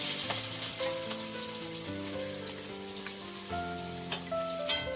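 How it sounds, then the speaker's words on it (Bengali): Cabbage frying in oil in a wok, a soft continuous sizzle and crackle under steady tonal background music, with no talk. "কড়াইয়ের মধ্যে তেল দিয়ে বাঁধাকপিটাকে ভেজে নেব।"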